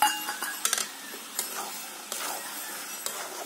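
A spoon stirs ash gourd curry with water in a pan, with soft scraping and light clinks against the metal in an irregular rhythm, close and clear, no voices.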